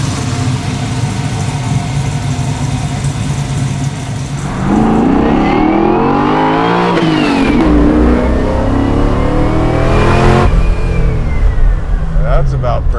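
A 1969 Chevelle with an LS engine pulls away and accelerates, its engine note rising in pitch through the gears, loud and close, with people talking over it.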